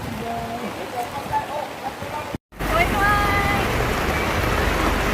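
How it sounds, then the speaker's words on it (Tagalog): Heavy rain pours steadily during an outdoor San Juan feast celebration, a loud continuous hiss of falling water with a brief cut partway, while people shout and chatter nearby. "lumakas ang ulan"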